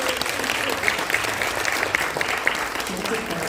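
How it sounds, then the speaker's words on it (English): Enthusiastic applause from an audience at a Toastmasters district conference showcase, loud continuous clapping with a few sharper claps standing out and faint voices mixed beneath. "Let's give a round of applause."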